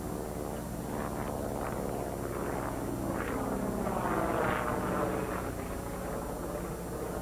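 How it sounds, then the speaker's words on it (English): A 1988 El Toro air show aerobatic airplane pitching up and rolling 360 degrees roars steadily at a distance, its engine drone swelling and fading with the maneuver against open-air wind. "He'll pitch the nose up, roll 360 degrees, back down to the runway, and re-accelerate and climb out to the left for his next maneuver."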